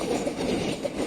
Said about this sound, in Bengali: ওইটা ওইখানে ট্রেন যাচ্ছে